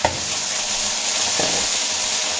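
Peas tipped into a hot pan of oil and vegetables for vegetable biryani set off a steady, close sizzle and frying hiss, with a brief stir or clatter near the start and another partway through.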